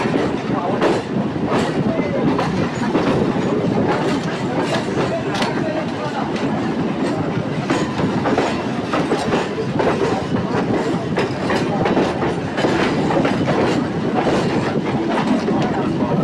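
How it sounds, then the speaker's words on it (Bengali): EMU local trains rolling one after another into Howrah station, a loud, steady rumble with rapid clickety-clack of wheels over rail joints throughout, and faint voices mixed in underneath. "একের পর এক ট্রেন পরপর হাওড়া প্রবেশ করছে।"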